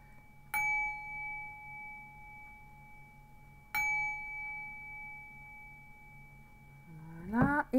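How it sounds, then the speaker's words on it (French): A gong is struck twice, several seconds apart, each hit a bright clang that settles into a long ringing hum fading slowly, before a short warbling sound at the end. "on fait encore un petit coup de gong"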